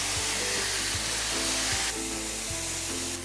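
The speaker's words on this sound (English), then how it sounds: "You wanna hear that sizzle when you go into the pan." Steaks, including a thin one-inch ribeye, sizzle steadily after going into a hot pan, a close, continuous hiss with faint low ticks and no voices.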